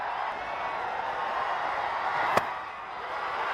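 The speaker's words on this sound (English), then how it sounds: "There's a vociferous crowd at the West End Park" A loud, steady crowd roar fills a cricket ground at West End Park during an India A versus Pakistan A match, with one sharp crack partway through.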